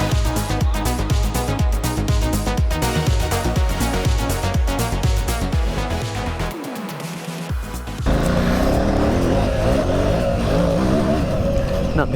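A KTM 950 Super Enduro motorcycle engine revs hard on a supercross-style track, its tone climbing through gears in a loud rising pattern, briefly dropping off before roaring back up close by, with some talk mixed in.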